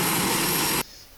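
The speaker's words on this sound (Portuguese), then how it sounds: "E tem avião passando." An airplane passing overhead makes a loud broad roar that cuts off abruptly partway through, leaving a quiet background.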